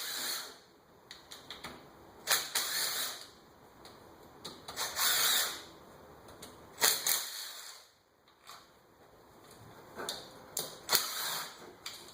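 Bolts being worked loose from the starter cover of a Polaris Sportsman ATV with a 5/16 wrench, giving irregular bursts of sharp metallic clicking and ratcheting close by, with short pauses between them.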